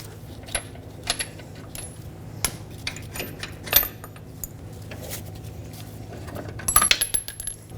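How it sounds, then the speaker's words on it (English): Metallic clinks and jingles of lug nuts turning off a Toyota Camry wheel with a lug wrench, sparse close-up taps followed by a cluster of rattles near the end. "Now take that lug wrench, remove the lug nuts the rest of the way"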